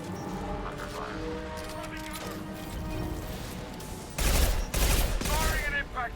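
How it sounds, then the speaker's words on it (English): An impact-shot weapon fires in Mass Effect 2, a loud burst of gunfire erupting near the end after quieter combat ambience, with a few sharp follow-up cracks. "Firing an impact shot."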